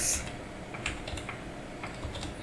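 Keys clatter on a computer keyboard as text is typed in Canva, quick light clicks in uneven bursts, close and clear with no voice.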